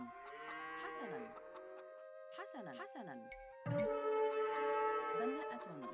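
Sheep bleats in Age of Empires, a real-time strategy game: a series of short wavering bleats with harmonic layers, some overlapping, over a steady game tone, with a louder stretch of bleating near the end.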